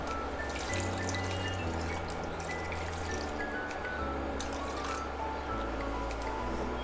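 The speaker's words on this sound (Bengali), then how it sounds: "এক দুই মিনিট মেশানোর পর দিয়ে দিচ্ছি জল" Water poured into a pan of potato and cauliflower curry, giving a steady, close liquid splashing and trickling over a low stovetop rumble, with no talking.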